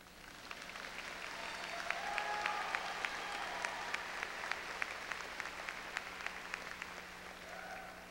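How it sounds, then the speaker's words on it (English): Applause from an audience at a high school commencement ceremony, a steady, moderately distant wash of many hands clapping that holds for about eight seconds with sharper individual claps poking through. "You can applaud."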